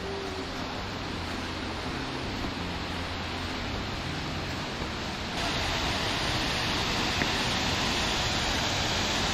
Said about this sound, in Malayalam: ഇതൊരു വലിയ വെള്ളച്ചാട്ടം.